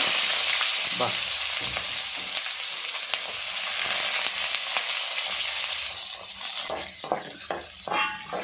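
Onions and tempering seeds fry in hot oil in a pan for an amaranth-leaf and moong dal fry, giving a loud, steady close-up sizzle; a few sharp spatula clatters and scrapes break through near the end.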